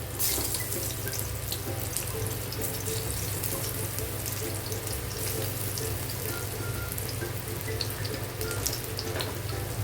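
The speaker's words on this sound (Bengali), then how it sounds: "তেলটা আমার গরম হয়ে গেছে এখন পটলগুলো আমি দিয়ে দেবো" Pointed gourd (parwal) pieces frying in hot oil on a gas stove, a dense, steady sizzle that goes on without a break, close and fairly loud, with no talking.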